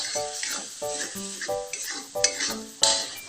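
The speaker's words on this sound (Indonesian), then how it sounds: "Oke, ini aku mau tumis untuk bumbunya." Balado chili spice paste stir-fried in leftover fish-frying oil, a spatula scraping and clanking against the pan in a steady rhythm over a loud, continuous sizzle.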